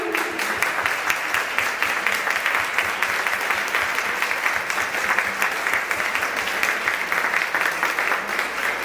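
A standing audience at a women's excellence awards event applauds itself, sustained thick clapping with steady energy for several seconds, near and full, with faint crowd murmur beneath.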